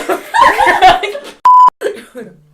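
A single short, loud electronic phone notification beep cuts in between bursts of talking and a cough, with speech resuming just after.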